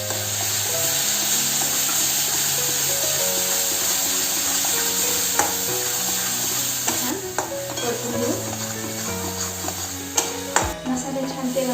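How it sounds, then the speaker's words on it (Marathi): Fine spice paste and chicken masala frying in oil for a surmai fish curry, a continuous sizzle with occasional scraping stirs, close and steady, under a sustained musical backing. "मसाले छान तेलामध्ये फ्राय करून घेतले आहे"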